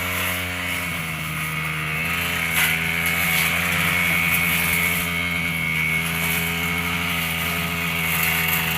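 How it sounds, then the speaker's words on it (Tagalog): Grass cutter trimming grass on a farm, a loud, steady droning engine whine held close and continuous throughout, with no voices over it. "Ganyan lang po mag-grass cutter ang aking abay."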